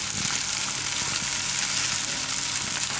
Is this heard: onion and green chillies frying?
yes